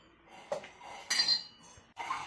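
An appe pan is handled while it is rubbed with oil for making raw-milk vadya, giving three separate metallic clinks and clatters, close and moderately loud, with quiet gaps between them and no talking.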